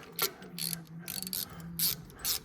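Ratchet clicks come in short bursts while bolts are tightened during the fitting of a Massey Ferguson 1250 tractor engine. The quick, close clattering is fairly quiet and separated by brief pauses.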